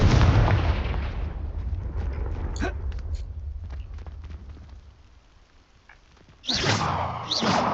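Confringo blasting spell in Hogwarts Legacy: a loud booming burst at the start that rumbles and decays over several seconds through scattered clicks, followed by a second sharp blast near the end.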